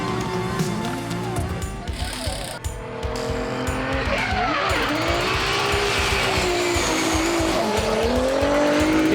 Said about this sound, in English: you've got the recipe for spectacular fields of high-octane drift monsters competing for the most prestigious prize in Australasian drifting